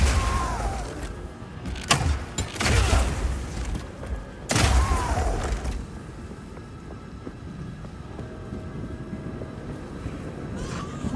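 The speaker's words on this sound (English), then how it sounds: "you can explode any grenades that happen to be on the ground" Crossbow grenades detonating in Path of Exile 2, a string of sharp explosive booms and crackling blasts in the first half, then a rumbling, noisy tail of combat ambience.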